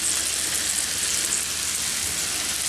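Onions fry on a Pit Boss 3-burner gas griddle alongside steak and cheese, giving a steady, close sizzling hiss without talk.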